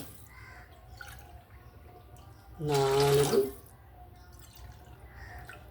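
Water poured into a pot while making chakkara pongal, a short splashing pour lasting about a second amid quiet surroundings, close by.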